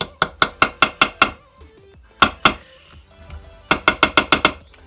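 A hammer taps a gearbox part into place during reassembly: two quick bursts of about six sharp metallic knocks, a lone strike between them, each hit ringing briefly, close and loud.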